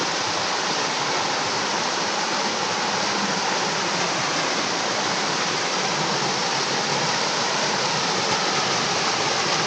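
Ashgill Force waterfall near Alston, Cumbria, pours in a steady, dense roar of falling water that fills the scene without pause, with no voices.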